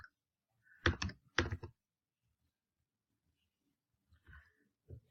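A username typed on a computer keyboard, two short clusters of quick key taps close by with silence between them and a few softer taps near the end.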